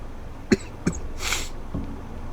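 Two quick close coughs from someone who swallowed the wrong way, then a breathy exhale and a faint final throat sound.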